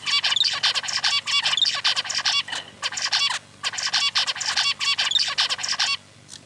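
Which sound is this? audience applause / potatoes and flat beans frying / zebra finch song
zebra finch song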